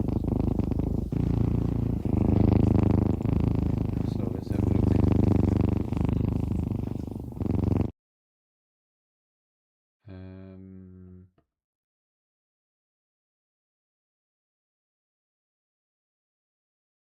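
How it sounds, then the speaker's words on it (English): Purring cat sound effect from the 1999 video game eCommerce '99, a steady low rumbling purr heard clearly and loudly for several seconds, then it cuts off, followed by a brief short line of speech after a pause. "Cat."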